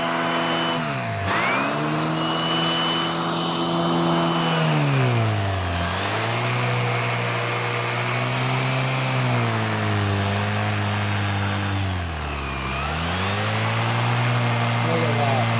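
A Hoover React Professional Pet vacuum cleaning pet hair off a couch, running loud and close with a steady motor whine that dips and rises as the head is pushed and pulled across the cushions.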